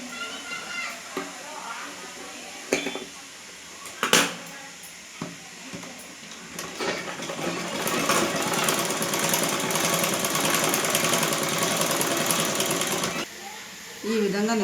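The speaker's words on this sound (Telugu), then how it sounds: "ఇప్పుడు ఇక్కడ కానీ మనం ఫస్ట్ స్టిచ్ చేసుకుందాం" A sewing machine stitches the back neck of a blouse, running in one continuous close, loud whirring burst of about six seconds. Scattered clicks and handling sounds come before it, and a voice speaks around the stitching.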